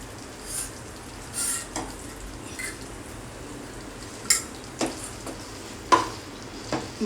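Dry fruits frying in oil and ghee for a homemade sweet, a soft low sizzle under scattered stirring clicks and spoon taps against the pan, quiet and close.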